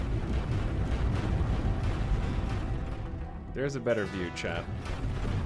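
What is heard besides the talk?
quad flak turrets firing at shields in a video game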